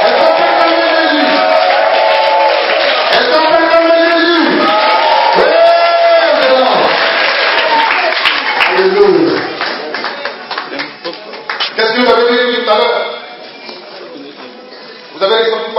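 A church congregation loudly acclaims Jesus with sustained cheering and shouted voices, a dense crowd roar that swells and dips over the whole stretch, with a few claps mixed in.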